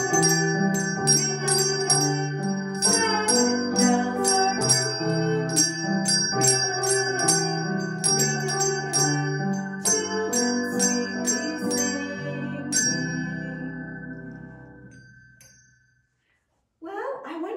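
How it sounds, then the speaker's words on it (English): Sabbath bells rung for a Sabbath School welcome, a steady run of bright, chiming strikes layered over sustained tones, continuing rhythmically before fading into a pause and a brief restart. "Are you ready to ring your Sabbath bell with us this morning and welcome the Sabbath day?"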